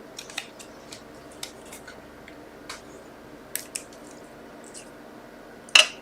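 Scissors cutting a Christmas card tag for a handmade tower card, a handful of sharp isolated snips and small paper clicks spread apart in a quiet room, one louder snip near the end, no voices.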